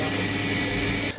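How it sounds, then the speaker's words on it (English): Roborock Q7 robot vacuum running at about 70 dB, a steady loud whirring drone with a high whine that cuts off abruptly near the end, no voices. "that was the loudest vacuum, Roborock Q7 at 70 dB"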